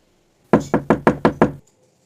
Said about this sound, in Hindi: उसी वक्त किसी ने मेरे दरवाजे पर दस्तक दिया।